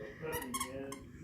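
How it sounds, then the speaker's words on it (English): High, rubbery squeaks from a dog toy come in quick bursts, close by and fairly quiet, with a soft voice underneath. "my little puppy got her a new toy and she's squeaking it."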